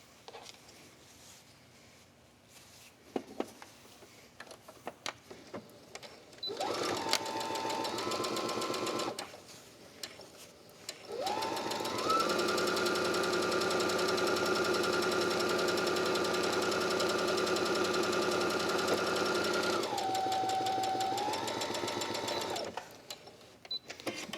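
A sewing machine stitches a quilted tablet case, running in a short burst and then a long steady whirring stretch, loud and close, with pauses between runs and no talk.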